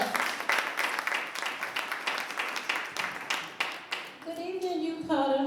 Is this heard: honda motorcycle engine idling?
no